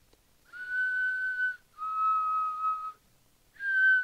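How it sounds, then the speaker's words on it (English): Negan whistles on his way back to the Sanctuary in a Walking Dead Season 9 scene: three clear, sustained melodic phrases, the last cut short, close and alone with no talking. "So we get the whistling."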